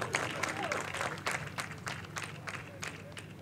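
Audience applause at a College Radio Day event at Long Beach City College, steady dense clapping with scattered sharper claps and faint voices mixed in throughout.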